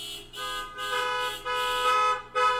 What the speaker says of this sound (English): That's worthy of a honk.